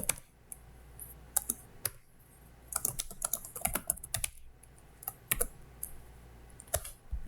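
Typing on a computer keyboard at a desk, close and fairly quiet: irregular bursts of crisp key clicks with short pauses between them, no talking.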